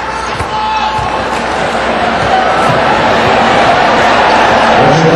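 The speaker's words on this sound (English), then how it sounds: "This crowd murmuring a variety of expressions, emotions" A basketball arena crowd at a Ginebra vs Alaska game murmurs in a loud, continuous wash of voices, with a few sharp ball bounces and thuds rising from the court.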